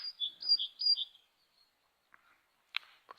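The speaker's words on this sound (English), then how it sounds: "But it's nice in here, listening to all them birds singing." Small birds chirp near a lake, nesting overhead: a quick run of bright tweets at the start, then a pause and a few sharp, isolated chirps, close and clear against a quiet background.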